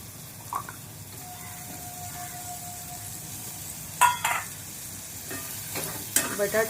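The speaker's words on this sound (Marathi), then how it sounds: "व बोंबील घातल्यानंतर ते थोडं परतून घेऊ।" Cleaned dried bombil fish sautéing in spiced oil in a pan, a soft low sizzle broken by a few sharp stirring scrapes and clatters near the end.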